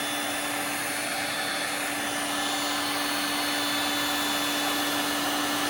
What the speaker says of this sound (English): So in terms of heat guns,